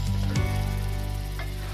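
Fish sizzles and fries in a pan as curry leaf paste goes in, with steady close crackling and a few brief stirring scrapes.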